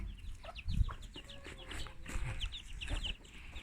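A hen clucks in short, repeated calls close by, with farmyard background noise and a few soft thumps.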